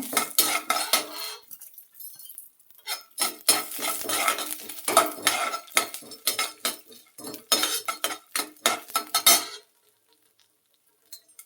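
Chana dal and urad dal tossed into hot oil in a pan, a busy run of clinking spoon-on-metal stirring and light sizzle close by, then stopping into near silence at the end.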